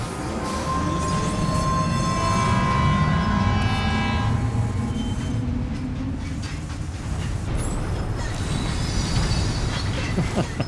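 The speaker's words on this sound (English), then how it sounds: "Choose whether or not Sam will ride the monorail." A monorail train running in the video game Death Stranding 2, a loud continuous rumble with squealing wheel tones and a rising then fading whine, sustained throughout with no talk.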